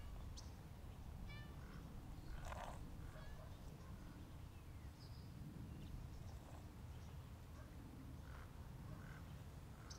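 Cats at a rescue shelter meowing, several short mews scattered over a noisy indoor background, faint to moderate and fairly close.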